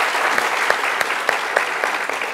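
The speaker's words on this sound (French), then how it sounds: "on l'applaudit très fort" Studio audience applauding a game-show winner on a French midday TV programme, a dense steady clatter of many hands clapping throughout, with a few sharper individual claps standing out, no talk over it.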